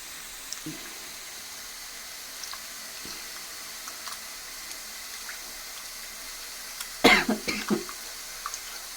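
A person coughs and clears their throat while cooking a spicy fish curry, a short cluster of faint coughs in a quiet kitchen with a little running water.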